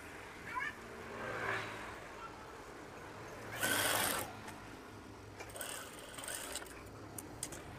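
Sewing machine stitching a curtain, a short burst of mechanical whirring in the middle between quieter handling noises and bits of talk.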